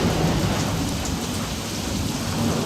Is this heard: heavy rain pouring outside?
yes